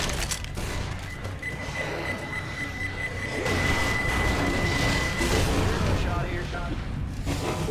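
A grenade blast in Left 4 Dead 2 booms out as a loud, sustained rumbling burst amid gunfire-like chaos, with players talking over the noise.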